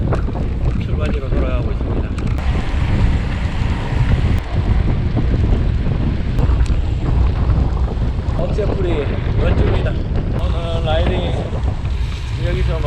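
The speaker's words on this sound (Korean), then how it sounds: "바람이 장난이 아닙니다. 맞바람 맞으면서" Strong headwind buffets the microphone during a bike ride along the Nakdong River, a loud, constant broadband roar with no letup. A voice can be heard faintly underneath at times.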